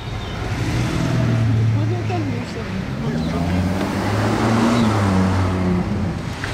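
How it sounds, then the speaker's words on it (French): A Ferrari V12 passes behind a matte-black Lamborghini SVJ, a steady engine drone with a sweeping pitch change as it goes by, heard at moderate distance under continuous background noise. "Choc des V12 de la Ferrari qui passe derrière la Lambo"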